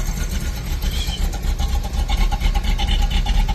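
A car engine idling a little low just after starting, while being prepped for winter storage, as a loud, steady, close rumble with a slight pulsing throb throughout.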